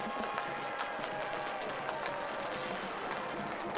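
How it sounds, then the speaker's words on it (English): Crowd applause and cheering fill a high school football stadium at a 2019 Weslaco Panthers vs Weslaco East Wildcats game, a steady, somewhat distant wash of noise with faint tonal hum from the public address system throughout. "Let's give them a big round of applause."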